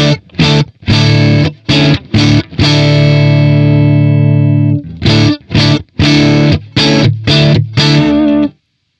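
Distorted electric guitar played through a preamp profile on a Tank-G effects unit, loud chopped chords and one long ringing sustained chord, with sharp stops between strums.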